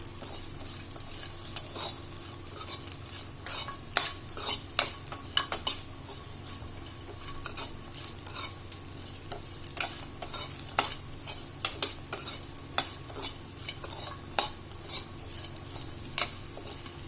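Okra sautéing with spice powder in a pan for okra rice, a steady sizzle punctuated by frequent rhythmic clinks and scrapes of a spoon stirring against the pan, close and clear, with no talk.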